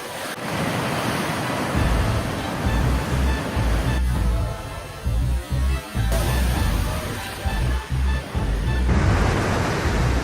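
Large ocean waves crash and roar in a continuous, loud, rumbling surge of surf, with wind buffeting the microphone and several brief dips in the noise.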